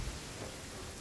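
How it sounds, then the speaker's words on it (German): Steady rain falls in the Genshin Impact game world, a soft, even wash of noise at low volume with no other sounds over it. "Oh, es regnet immer noch."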